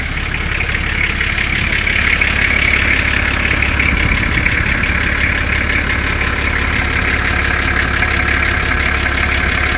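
A 1998 Nissan Patrol TD42 turbo diesel with a Legend X exhaust idles close up, a steady low rumble with a rhythmic clattering knock that briefly swells, with no one speaking.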